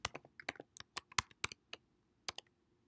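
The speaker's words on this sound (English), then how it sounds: "We're going to enter the current password," Keys clacking on a computer keyboard as a password is entered, a burst of about a dozen crisp, close keystrokes in an uneven rhythm, then a pause and two final taps, with no talking.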